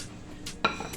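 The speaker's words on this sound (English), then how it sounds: "Let me get my little favorite Christmas plate." A favorite Christmas plate clinks briefly against other dishes in a kitchen, one sharp ceramic knock standing out from quiet clatter.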